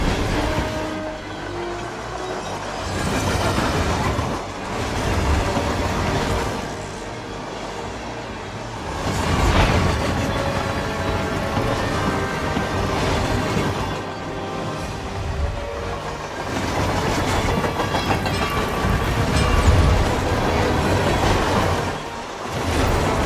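A train rolls along steadily in the video game Hitman, a continuous rumbling run with rhythmic wheel clatter and swells of louder passes, with no talking over it.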